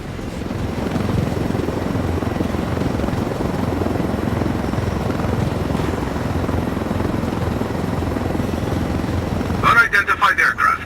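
A helicopter flies in the video game Ghost Recon: Wildlands, its steady loud rotor and engine roar filling the clip before a short choppy pulsing at the end.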